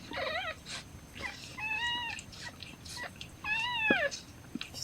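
Buttercup, a rescue cat giving birth to kittens, meows repeatedly nearby in quiet surroundings, with three or four drawn-out, wavering cries spaced a second or so apart.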